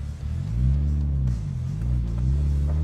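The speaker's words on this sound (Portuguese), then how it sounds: "Retomada de 40 a 100 em terceira marcha." A Chevrolet Corsa 1.0 engine pulling hard in third gear from 40 to 100, a loud steady low drone that holds and rises slightly as it accelerates.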